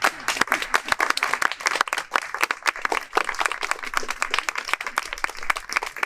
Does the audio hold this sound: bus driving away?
no